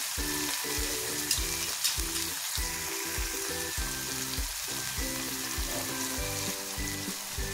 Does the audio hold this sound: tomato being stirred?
yes